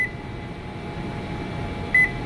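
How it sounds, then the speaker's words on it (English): A single short, clear electronic beep sounds from a Panasonic inverter microwave oven near the end, over a low steady hum of room noise. "Keep pressing start for more than 2 seconds till we get a beep."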